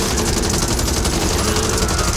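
Rapid, dense automatic gunfire in the zombie shooter Back 4 Blood, loud and close, continuous bursts packed together for the whole stretch with no pause.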